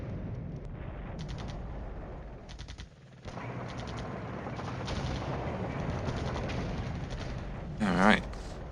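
Artillery bombardment in the Cold War wargame Flashpoint Campaigns: a steady rumbling barrage of distant gunfire and shell blasts. Bursts of rapid crackling repeat throughout, with a short swelling whistle near the end.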